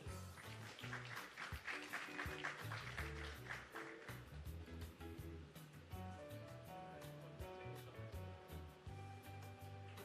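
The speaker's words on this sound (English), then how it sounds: "Keep that applause going as well for Amoy Evans and Constance Hudson." Audience applause fills a National Housing Trust handing over ceremony in Shrewsbury Petersfield, a steady, dense clapping that continues throughout with music playing underneath.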